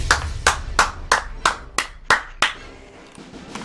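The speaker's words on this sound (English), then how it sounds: "round of applause" Round of applause: eight sharp, close hand claps in a quick, even rhythm, then quiet.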